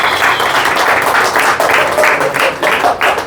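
Church congregation applauds in one sustained burst of dense clapping that pulses slightly in waves; loud and steady throughout, with no speech over it.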